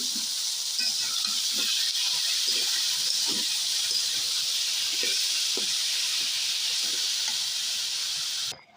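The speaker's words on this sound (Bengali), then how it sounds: "এরপরে আমি যে বতুয়া শাকটা সিদ্ধ করে রেখেছিলাম সেটা আমি তেলেতে দিয়ে নেব" Boiled bathua greens with dried chili sizzle in hot oil in a pan, a steady moderate hiss of frying with soft intermittent stirring knocks underneath, cutting off abruptly at the end.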